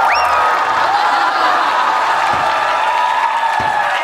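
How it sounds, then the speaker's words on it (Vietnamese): A crowd at a Vietnamese TV show martial-arts performance applauds and cheers steadily, with a few whistles and whoops rising above the clapping. "Vỗ tay tặng các bạn 100 ngón tay."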